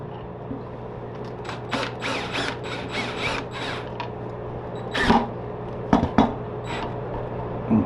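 A screw driven into wood while making a bonsai lazy Susan, heard as uneven mechanical ratcheting and grinding bursts with several sharper clicks near the end, close by.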